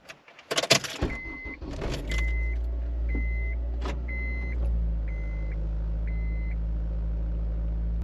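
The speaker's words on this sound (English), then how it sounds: "let's go ahead and start the car, and I'll go ahead, warm it up" A Honda Acura with a P0420 catalytic converter fault is started after a few clunks and rattles, then settles into a steady low idle while a chime beeps at regular intervals.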